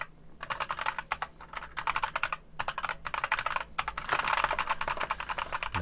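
Computer keyboard typing in quick bursts of close, crisp keystrokes with short pauses between runs, fairly quiet and with no voices.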